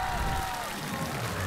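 A studio audience on a TV variety show applauds to welcome a singer, a dense continuous wash of clapping that stays even throughout, with a voice faintly over it.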